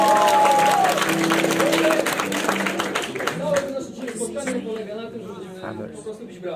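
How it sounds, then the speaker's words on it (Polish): An audience in a hall claps and cheers for a father in the crowd, with a steady wash of applause that is loudest at first and then slowly thins while voices carry over it. "No to nie chcesz oklaski!"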